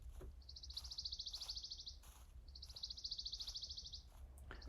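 Synthetic bird call placed in an object-based spatial audio demo, two long trilling chirp phrases separated by a pause, with a few short chirps between, over a low steady hum.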